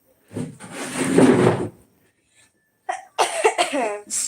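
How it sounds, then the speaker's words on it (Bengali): A raspy cough sounds close by, followed after a brief pause by a few more rough coughing bursts. "কাশিটা কমলোই না গো রাতে হলে মানে কাশিটা একটু বেশি হয়"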